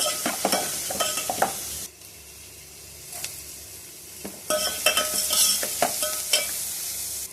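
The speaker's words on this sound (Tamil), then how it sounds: "அந்த பெருங்காயம்லாம் போட்டு நம்ம வதக்கும் போது" Asafoetida and spices sauté in hot oil in a pan, a close crackling sizzle punctuated by sharp scrapes and taps of a stirring spoon, coming in bursts with a quieter stretch between.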